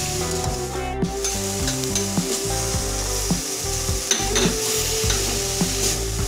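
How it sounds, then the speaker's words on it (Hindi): Chicken stirred in a sizzling pan, with a steady frying hiss and repeated scraping stir strokes and clinks of a spoon against the pan, close and continuous with no talking. "इसे अच्छे से मिक्स कर लेंगे।"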